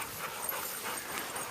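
Dogs whimpering and panting during an obedience training session, faint and breathy with soft airy pants and a few thin whines spread through the short stretch, no voices.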